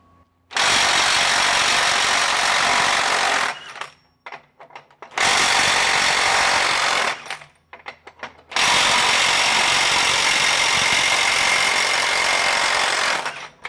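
A Ryobi cordless impact wrench hammers loudly in three long bursts, each roughly two to four seconds, breaking torqued nuts free, with short rattling pauses in between.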